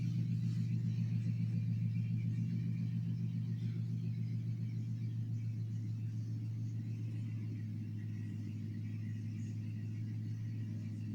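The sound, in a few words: neighbors' noisy truck starting up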